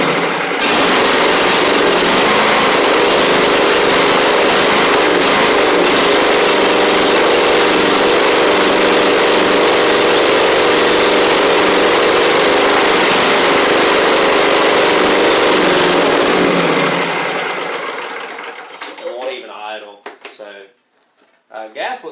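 A Craftsman DYS4500 lawn tractor with a 24 horsepower Briggs V-twin engine runs loud and close with an uneven, surging drone, then cuts off near the end, leaving a few faint clicks and knocks.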